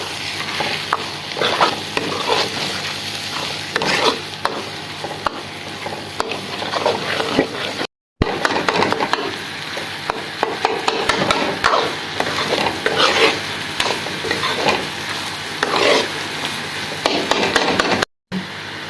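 A spatula stirring and scraping eggs and onions in a hot sizzling pan, close and loud, with a steady frying hiss under repeated rhythmic scrapes, briefly cut off twice by short silences.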